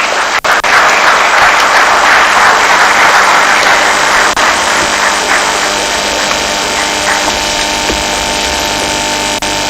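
Loud, sustained applause from a large crowd at a lecture and award ceremony, steady clapping throughout that thins slightly toward the end.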